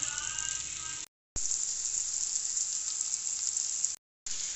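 Chopped tomatoes sizzle steadily in hot oil with onions in a pan for a kabab and scrambled egg dish, a dense, close hiss broken by two brief silent gaps.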